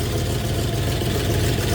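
A 1964 Oldsmobile 394 V8 that needs tuning and has an exhaust leak under the manifold runs close up with a steady, low, throbbing rumble for a brief stretch. No voices are heard.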